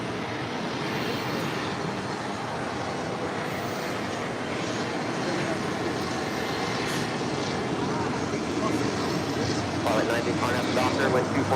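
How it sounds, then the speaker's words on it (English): A Singapore Airlines Boeing 777-300ER rolls down runway 24 left at LAX on its takeoff to Tokyo Narita, a continuous broad jet roar swelling gradually and staying moderately distant, with voices talking underneath. "Singapore, the 777-300ER heading down 24 left."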